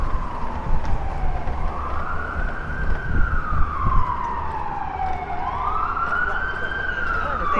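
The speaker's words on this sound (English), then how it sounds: "it's not an ambulance, it's a police car" A police car siren wails in rising and falling sweeps as it passes along a Washington street, loud and close over steady traffic rumble, with a voice talking faintly underneath.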